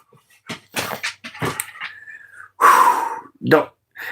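A big dog whimpers and huffs in short bursts while climbing into a person's lap, with a person's sighs and groans mixed in close to the mic.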